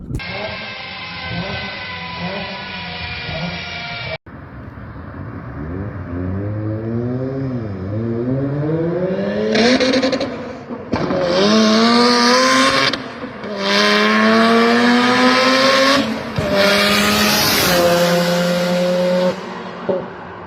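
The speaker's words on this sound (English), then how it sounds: "this is what a three-rotor turbocharged FD RX7 sounds like" Turbocharged three-rotor Mazda FD RX-7 engine at a garage, revving loudly and repeatedly, with rising, climbing blips after an initial steady high-pitched idle, close and dominant throughout.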